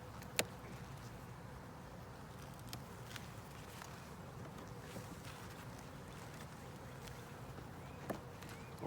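Honey bees from a ten-frame deep hive drone during a colony inspection, a faint, steady hum with a few soft knocks and clicks scattered throughout.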